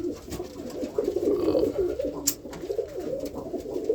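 Roller pigeons coo softly and steadily at close range, a low rolling warble repeating through the whole stretch with a few faint background clicks and no talking.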